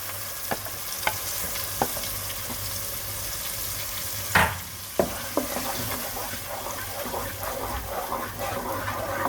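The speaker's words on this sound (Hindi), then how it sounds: "now we're going to drop the onion puree with the garlic" Onion puree with garlic drops into hot oil in a pan for an egg curry. A continuous close sizzle carries sharp spatula scrapes and a louder splash as it hits the pan.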